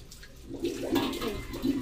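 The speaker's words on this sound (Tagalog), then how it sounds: "Kung nagluluto talaga ako, mahina talaga ang tubig." Weak tap water runs at low pressure in a home kitchen while cooking, a soft splashing trickle that swells and fades in uneven surges.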